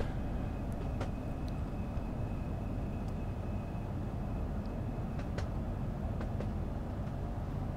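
Train rolling along a Southeastern High Speed line in Train Sim World 2, a steady low rumble of wheels and motors with occasional faint clicks and rail ticks, continuous and even throughout.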